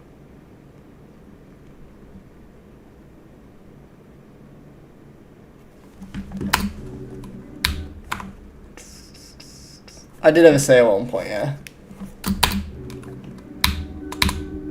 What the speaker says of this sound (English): this keyboard's basically a Sayo, but more durable